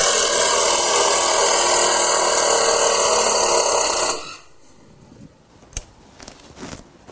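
A Festool Ti-15 hybrid impact driver drives with a loud, steady whirring whine for about four seconds, then cuts off abruptly, leaving faint clicks and handling noises afterward.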